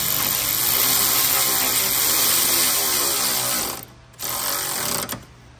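A power tool whirs continuously and loudly while tightening a bolt during repair work on a Lexus RX350, with a short pause near the end before it briefly runs again.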